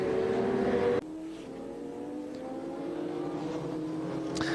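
A Works Honda racing motorcycle runs in the wet at the 1996 Bol d'Or endurance race, its engine a steady distant drone with a high whine that cuts off abruptly, leaving a lower continuous roar with no talking.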